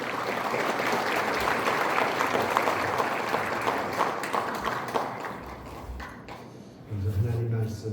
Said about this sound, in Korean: 우리 박수로 맞이해 주시기 바랍니다.